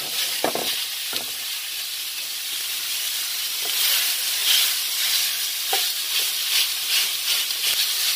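Beef frying alone in a cast iron skillet with no added oil, a steady bright sizzle and hiss running throughout with a few stirring scrapes and crackles, close and moderately loud.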